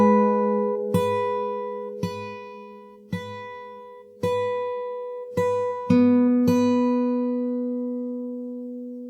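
Fingerstyle acoustic guitar playing part of a song: evenly spaced plucked notes about once a second over a sustained low note, eight attacks in all, clear and close, the last ringing out.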